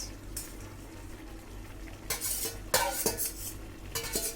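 Fried prawns stirred into half-cooked bottle gourd in a pan, a low background sizzle with several clattering scrapes of a metal spoon against the pan, close and moderately loud.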